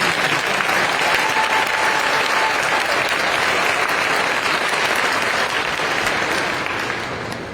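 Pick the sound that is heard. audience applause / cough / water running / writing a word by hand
audience applause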